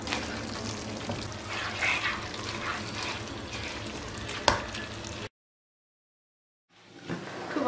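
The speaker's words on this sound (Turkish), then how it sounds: "Şimdi bir çay kaşığı dolusu tuz, karabiber, bir tane de büyüklerinden sarımsağı ilave edip şöyle bir yedireyim." A sauce is stirred in a pan after salt, pepper and garlic are added, giving a steady soft sizzle and scraping with one sharp clink, then a pause of near silence before the stirring resumes.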